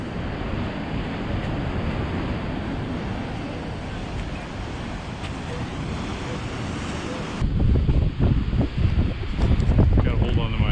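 Steady wind buffets the microphone over the roar of ocean waves at Nazaré, Portugal, a continuous loud rush that grows heavier and more gusty toward the end.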